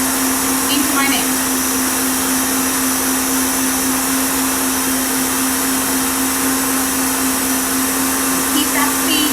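Electric mixer whisking meringue at fast speed while caster sugar is added bit by bit, a steady loud motor whine running unbroken throughout, close and continuous.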